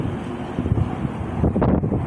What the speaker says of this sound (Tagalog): Sobrang hangin. Mahangin pa doon.